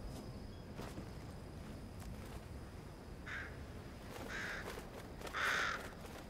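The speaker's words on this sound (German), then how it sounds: "Überall Vögel, aber leider kein Leuchtender." Birds caw several times in the Fortnite video game, faint calls rising in strength toward the end over a low, steady ambient hiss.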